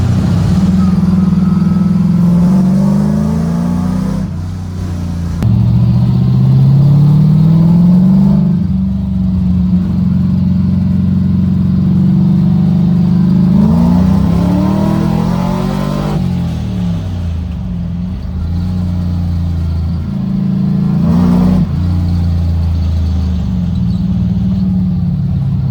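An LS V8-swapped Mazda FC RX7 drift car revs hard and accelerates through several pulls, the engine note rising and falling, loud and close.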